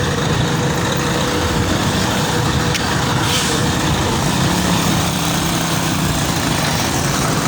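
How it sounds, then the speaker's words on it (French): Steady road traffic with heavy trucks rumbling past, a continuous dense engine drone filling the scene with no talk over it. "Regardez la circulation"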